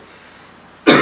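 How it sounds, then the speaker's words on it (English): A single loud, harsh cough bursts out suddenly after a quiet stretch, close and abrupt. "Excuse me, I do have a cough."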